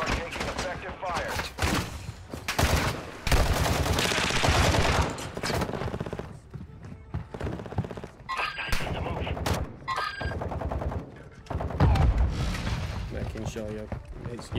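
Video game gunfire comes in rapid bursts of automatic shots and heavy booms, loud and broken up by short gaps, with voices talking over the shooting.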